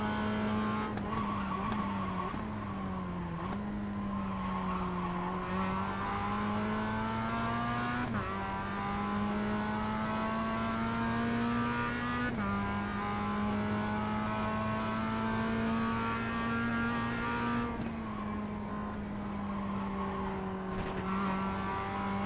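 Race cars in the iRacing video game, a continuous loud engine drone with shifting pitch as gears change and revs rise and fall, tires squealing through corners over about twenty seconds.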